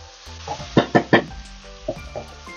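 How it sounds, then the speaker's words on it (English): Caramelizing onions sizzle in a pan while being stirred, with a few sharp utensil scrapes and knocks over a steady close sizzle. "I'm gonna give this a nice mix"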